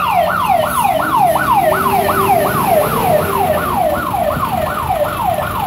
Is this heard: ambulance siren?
yes